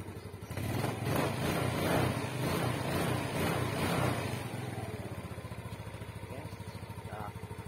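An old Yamaha Mio motorcycle with a carburetor problem starts and runs close by, revving loudly at first and then settling into an uneven, unsteady idle.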